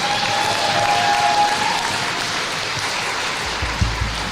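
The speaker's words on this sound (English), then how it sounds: "let's give a big round of applause for Mr. Eckroth for putting this all on for us today" Applause from an audience of students and state delegates at a school civics party national convention, a steady wash of clapping filling the clip, loud and continuous, with a few thumps near the end.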